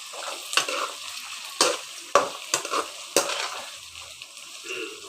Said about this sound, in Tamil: கத்திரிக்காய் முருங்கைக்காவும் கொஞ்சம் வதக்கி விட்டுக்கலாம்.